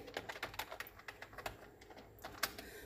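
Fingers tap quickly on a computer keyboard while HTML code is entered, a steady run of light, crisp keystrokes with short pauses, close and fairly quiet, with no voices.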